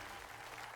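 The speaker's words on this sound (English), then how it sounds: "Applause, everyone." Hall audience applauding after a performance at a televised singing contest, a faint, even wash of clapping and crowd noise heard from a distance.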